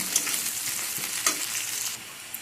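Chopped garlic, onion and ginger are stirred and fried together in a pan, giving a steady sizzle with scraping stirs and a few sharp clicks. There is no talking.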